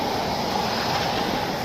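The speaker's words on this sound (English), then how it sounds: "it's clear up there, but it's pouring rain down here" Heavy pouring rain in a downpour outdoors in New Brunswick, a dense, steady roar of rainfall with no breaks, loud and close throughout.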